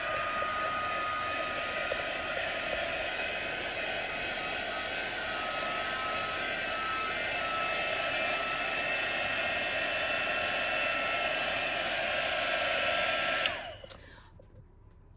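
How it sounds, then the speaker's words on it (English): A heat gun blows hot air over stamped card sprayed with shimmer, a steady close whooshing roar with a high whine that runs continuously for about thirteen seconds before cutting off, with no talking. "let me just get the heat gun out, and it will make a little bit of noise, so I'll just heat gun this."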